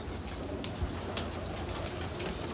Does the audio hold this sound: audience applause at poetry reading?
no